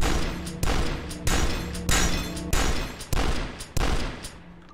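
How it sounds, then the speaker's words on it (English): Heavy gunfire in the shooter game Dusk booms out in a steady string of about eight loud, evenly spaced shots, each ringing briefly before the next, with no talking over it. "Shoot it repeatedly."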